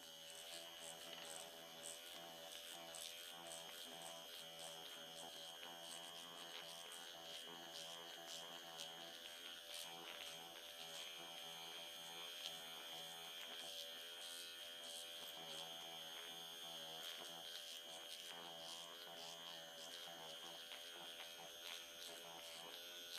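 A nano infusion pen buzzes steadily and faintly during at-home facial microchanneling, a continuous electric hum with a tonal whine that holds unchanged throughout, with no speech.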